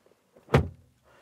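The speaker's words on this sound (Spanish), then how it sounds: "suena muy bien el cierre de la puerta" A single solid thud as the rear door of an Audi A3 is shut, close and brief with a muffled, tight-sealing tone, followed by quiet.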